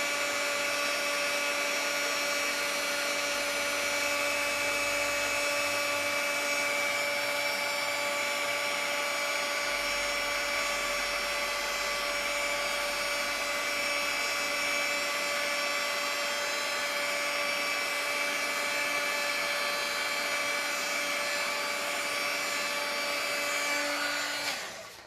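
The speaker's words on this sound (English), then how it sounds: "We're going to be using our heat gun. So it's going to get noisy again." A heat gun blows steadily to melt white embossing powder on a card, a loud continuous whirring roar with a high fan whine that holds unchanged for about 25 seconds and then cuts off.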